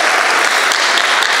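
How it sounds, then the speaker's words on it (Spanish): Dense, steady applause from an audience at a breast cancer testimony and health forum, honoring a women's group from Chetumal; loud, continuous clapping with no talk over it. "a las que pido un gran aplauso por su fuerte compromiso en Chetumal"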